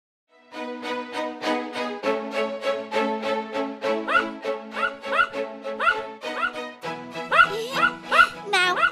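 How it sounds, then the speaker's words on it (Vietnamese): Animated cartoon dog barking repeatedly in quick, yappy bursts, loud and close, with steady rhythmic barks filling the whole stretch and no talking. "Dũng, em có thể bảo con cún ngừng sủa không? Ồn ào quá"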